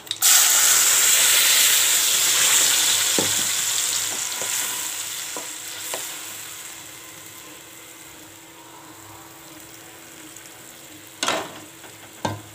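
Tomato juice and tamarind water bubbling and sizzling in a pan over a medium flame while tomato pickle is made, a steady close hiss that slowly eases, broken by a few stirring clinks near the end.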